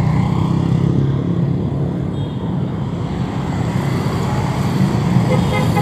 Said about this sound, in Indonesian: Enggak Jakarta namanya kalau enggak ada suara klakson